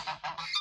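Geese at a backyard pool give a quick series of three or four loud, nasal honks, close and without talk.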